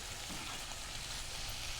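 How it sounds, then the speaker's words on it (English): Shrimp sizzle steadily in a hot pan, an even crackling hiss with no voices. "frying up, getting kind of that pink color"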